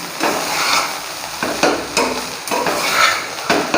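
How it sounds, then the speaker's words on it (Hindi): Egg prawn fried rice is stir-fried in a hot pan, with continuous loud sizzling broken by repeated scraping strokes of a spatula, close up and with no voices. "प्रॉन भी मैं दे दूँगी और सभी को फिर से मिला लूँगी।"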